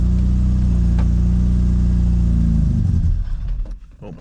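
A classic Mini that has sat unused for seven months cranks and turns over with a loud, steady engine drone, then falters and dies away near the end without catching fully.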